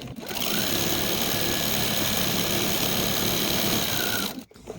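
A sewing machine stitches across layered quilt fabric scraps, its motor whirring in one loud, steady, close run before stopping abruptly.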